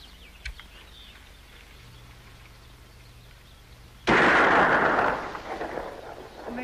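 A single loud gunshot aimed at the top of a fence post cracks suddenly after a quiet stretch, then a broad rumbling echo decays over a couple of seconds.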